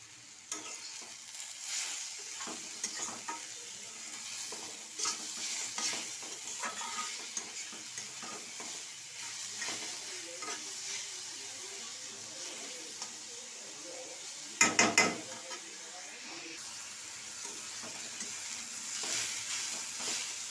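Thinly cut beetroot stir-fried in a pan with a little oil and a pinch of sugar, a quiet steady sizzle broken by scraping stirs and a short clatter of utensil against pan.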